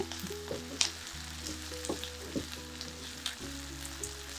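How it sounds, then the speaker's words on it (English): Onions sautéing in a pan for a backyard herb weed soup, a steady quiet sizzle with scattered crackles and pops, close up and alone without speech. "those onions are smelling good. They are, and they're sizzling away."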